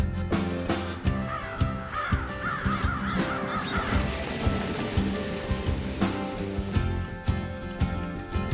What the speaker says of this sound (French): Trouver des corneilles, c'est plutôt simple et rapide.